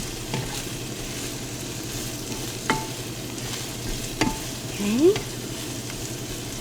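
Baby broccoli cut into two-inch pieces sizzles steadily in a pan, with occasional clinks of utensil stirring. A person speaks briefly over the frying.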